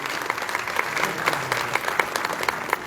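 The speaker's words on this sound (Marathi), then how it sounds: "जोरदार टाळ्या झाल्या पाहिजेत या महोत्सवाच्या यशस्वीतेसाठी" A seated audience claps steadily at the inauguration of the Goa Marathi Film Festival, a sustained round of dense applause from a crowded hall.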